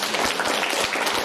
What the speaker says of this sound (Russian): Ему аплодисменты.